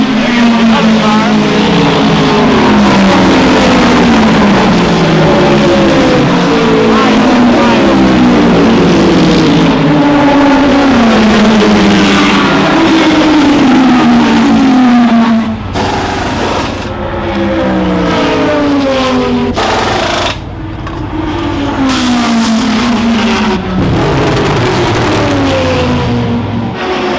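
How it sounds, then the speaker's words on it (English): Cars racing around a track during the Rolex 24 endurance race, loud engines rising and falling in pitch as they rev and shift, with brief cuts and dips between passes. "Another car."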